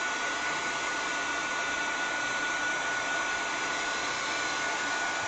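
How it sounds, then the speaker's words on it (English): A hair dryer blows steadily at high speed close by, drying wet vinyl, a constant breathy whoosh with no pauses and no talking. "my dryer and just kind of dry that area."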